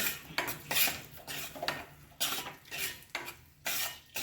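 Wheat flour roasting in ghee in a pan for sheera, with steady scraping and stirring strokes of a spatula against the pan, rhythmic and close, with a soft background sizzle and no talking.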